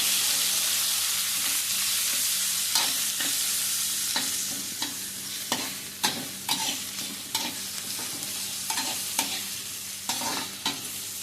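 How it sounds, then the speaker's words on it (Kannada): Onion and beetroot fry in a pan, a steady soft sizzle running throughout while a utensil stirs and scrapes in a series of distinct taps and scrapes, growing more frequent in the second half, with no talking. "ಈರುಳ್ಳಿ ಹೆಚ್ಚು ಏನು ಫ್ರೈ ಆಗಬೇಕಂತೇನಿಲ್ಲ."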